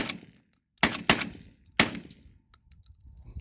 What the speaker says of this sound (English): That was 5 rounds.